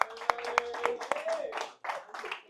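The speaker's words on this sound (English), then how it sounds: "So give Lulu a round of applause." Scattered claps from a workshop audience with a lively crowd chattering over them, a few sharp hand claps standing out near the start before the noise settles into voices.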